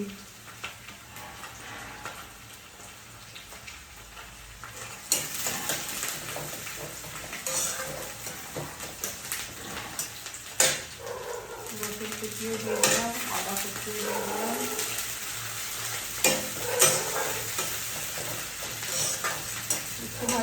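Vegetables sizzle in a pan while a spoon stirs and scrapes against the metal, making repeated clinks and scrapes over a steady hiss, with faint speech in places.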